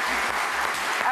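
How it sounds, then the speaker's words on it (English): A studio audience applauds steadily on a daytime talk show, a dense wash of clapping that holds throughout with voices faintly mixed in. "Sabrina and Brianne, let's give them a big round of applause there."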